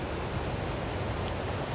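Heavy water rushes steadily through the Leaburg Canal on the McKenzie River in Oregon during a large release, a dense, continuous roar close to the microphone with no talk.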